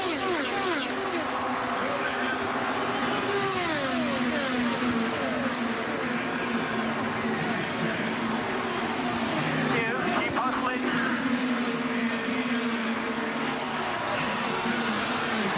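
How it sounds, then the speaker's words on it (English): IndyCar race cars on the final lap of the Indy 500 make a continuous engine roar, with gliding pitch sweeps as cars pass. An announcer speaks over the noise. "Castroneves tries to close, Sato tries to defend. 2 corners until the checkered flag"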